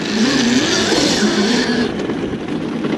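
An electric KTM motocross bike passes in third gear, its loud, close motor whine rising and wavering in pitch before dropping away as it moves off, over wind and tyre noise.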